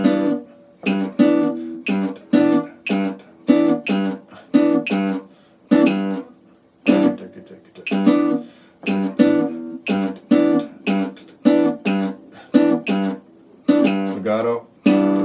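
Guitar tones pulse in a steady rhythmic 7 against 8 polyrhythm grouped in 8s, repeated short plucked notes with brief gaps, clear and close with no talking.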